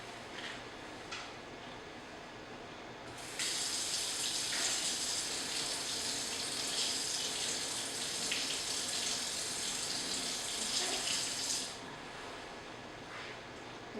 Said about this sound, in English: I'm going to go over to the water, and with the button down, I'm going to rinse the stains off